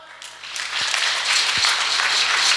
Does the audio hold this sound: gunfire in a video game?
no